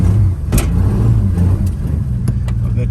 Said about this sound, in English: That clutch is slipping bad.